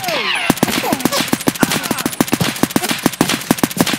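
Rapid automatic gunfire from a shooter video game, a dense rhythmic burst of loud shots running steadily throughout, close and dominant.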